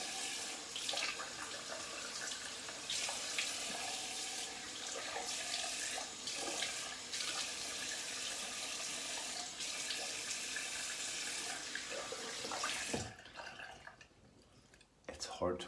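Water from a tap pours in a steady hiss while skin is rinsed at a sink, continuing for several seconds before cutting off near the end.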